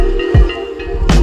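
A beat built on a looping gamelan-style microtonal pluck that sits slightly out of key and a touch offbeat, with a low kick thump near the start and a bright percussive hit near the end over a sustained tonal bed.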